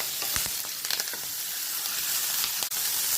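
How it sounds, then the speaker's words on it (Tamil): Onions and curry leaves sizzle steadily in a pan for a Sri Lankan-style masi thokku, a bright continuous frying hiss with occasional soft stirring clicks. "வெங்காயம் கொஞ்சம் நல்லா வதங்கட்டும்."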